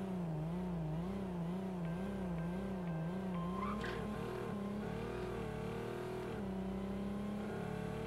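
In the Racing Rivals video game, a car's engine revs in a wavering pattern during a tap launch, then shifts sharply and accelerates away with tire noise. The sound is loud, continuous, synthetic game audio.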